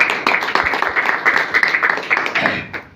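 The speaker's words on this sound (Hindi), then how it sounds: "मिस्टर दिनेश कुमार मौर्य जी के नाम पर जोरदार ताली होनी चाहिए" A crowd claps steadily for a few seconds at an award rank celebration event, dense applause that fades slightly at the end.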